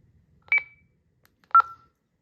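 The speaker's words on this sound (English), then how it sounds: "this is the alert that'll come up to get your attention." Two short electronic tones chirp about a second apart, each a bright beep with a brief ringing tail, alone against near silence.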